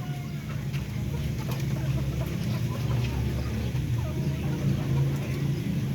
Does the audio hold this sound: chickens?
yes